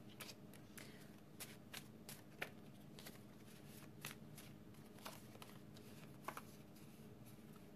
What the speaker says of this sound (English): So let's shuffle one more time.